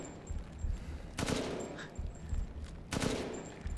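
Gunfire in the video game Resident Evil Village as shots are fired at a bomb, two sharp loud bursts about two seconds apart over a low game background hum.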